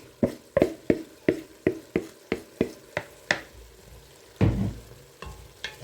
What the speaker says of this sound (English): And just fold that into your garlic, onions, and olive oil.